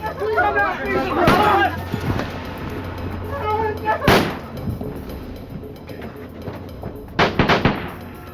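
Gunshots in a crime reenactment of a botched Starbucks robbery, a few sharp loud cracks spaced seconds apart, mixed with a speaking voice and background tension sounds.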